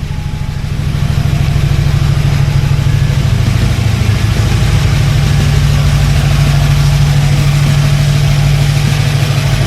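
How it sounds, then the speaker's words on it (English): A 1941 Buick engine idles steadily at close range, a loud, even low rumble that holds without a break for about ten seconds with no talking. "Let's turn her idle down a little bit."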